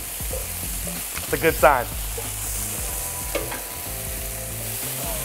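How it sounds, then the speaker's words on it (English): Vegetables sauteing with tomato paste in a pan on a commercial chef station, a constant close sizzle with spoon scrapes and a few brief knocks, while someone talks briefly over it. "Who knows sauteing vegetables could be so exciting?"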